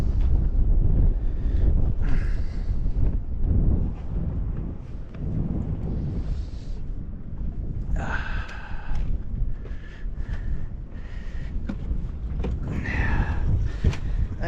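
Steady wind blowing across a boat anchored in a harbor on a stormy evening, a continuous low rumble buffeting the microphone with gusts swelling and easing throughout, no voices.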